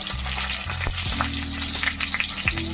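Brinjals frying in hot oil with onions hiss and crackle steadily in a pan, with occasional pops and a few soft knocks of utensils nearby.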